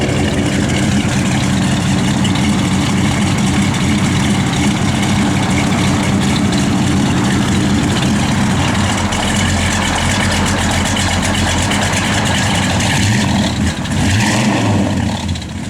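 A 1969 Plymouth Road Runner engine idles with a deep, steady rumble, then revs up briefly near the end before settling back down; close and loud.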